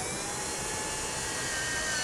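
A constant high whine of a drill making a small hole while mounting a tail light wiring kit on a towed vehicle, running steadily for a couple of seconds, close and even in loudness, with no pauses.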